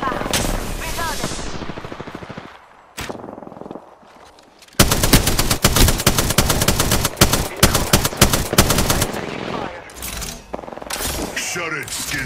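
Apex Legends gunfire in a battle royale match: loud, dense bursts of rapid automatic shots with sharp cracks and impacts, broken by brief pauses and reloads, mixed with game voice lines.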